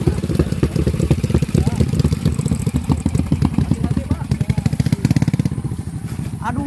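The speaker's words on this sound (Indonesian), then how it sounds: "di sini tuh motor gunung-gunung semua ya, karena jalannya di sini sangat terjal banget" Dirt motorcycle climbing a steep, rough mountain road, its engine loud and close with a choppy, pulsing putter throughout, with voices over it.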